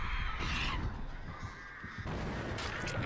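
Ravens cawing in the horror video game Dead by Daylight, harsh caws and honking bird calls piling up over a dense, busy game soundscape with no talk.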